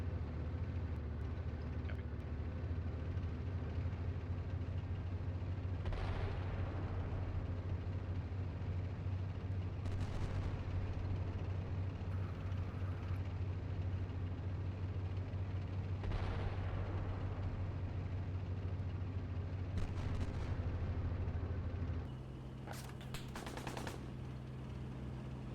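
Steady low engine drone under repeated distant booms and gunfire in the tank simulator Steel Beasts Pro PE, several separate thuds spaced a few seconds apart, with the rumble shifting near the end.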